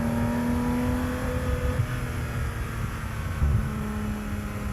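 Porsche GT3 engine revving on a dyno, a steady high-pitched drone holding level with a few slight surges, fairly loud and alone with no talk.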